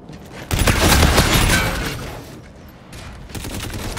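A grenade blast in a first-person shooter video game: a sudden loud burst at half a second, then a broad rumbling crackle of debris that slowly decays, with more gunfire-like crackling toward the end.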